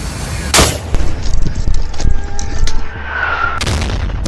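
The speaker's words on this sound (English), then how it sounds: "The mortar explodes nearby" Mortar rounds fired and exploding nearby during combat in trenches, a loud sharp blast followed by rumbling debris and crackling, then another heavy boom near the end, close and harsh.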